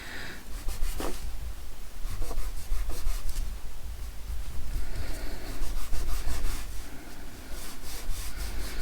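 Silver paint rubbed gently onto a picture frame, a close, steady scratchy rubbing that goes on throughout in soft repeated strokes, with no talking.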